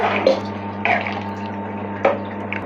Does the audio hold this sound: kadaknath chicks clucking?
no